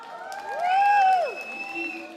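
Audience applause and cheering at a Nepali evening greetings program after a poetry recitation, a crowd clapping steadily for about two seconds with a rising and falling swell and some voices mixed in.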